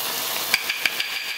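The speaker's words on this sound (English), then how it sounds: "So to my pan, I'm going to add my tomato product." A tomato product hits a hot curry pan with spices, giving a steady soft sizzle and frying hiss, with a few light stirring clicks and taps from a utensil.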